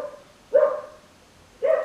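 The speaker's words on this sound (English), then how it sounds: "My dog is barking, guys." A dog gives two short, moderately loud barks about a second apart, slightly distant in an otherwise quiet indoor room.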